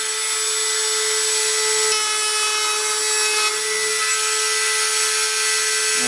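A power chamfering tool cuts a hefty chamfer with a loud, steady, high-pitched whine and grinding rasp that holds evenly throughout.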